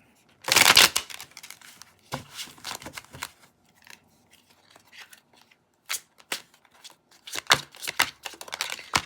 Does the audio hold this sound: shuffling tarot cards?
yes